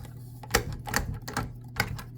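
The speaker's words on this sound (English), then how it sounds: "And don't judge my typing either." Typing on a keyboard fitted with Braille key labels: a handful of separate clicky keystrokes, fairly close and irregular in rhythm, with a low steady hum underneath and no talk.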